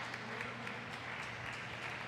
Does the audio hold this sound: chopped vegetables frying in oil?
no